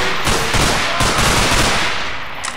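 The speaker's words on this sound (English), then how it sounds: "I'll shoot at the flashlights and the muzzle flashes." Sustained automatic gunfire in the video game Underhell, a loud, dense stream of rapid shots filling the whole stretch with several sharper bursts, close and continuous, no speech over it.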